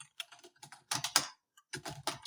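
Bursts of typing on a computer keyboard, several quick clusters of clicking keystrokes separated by short pauses, close and fairly quiet with no voices.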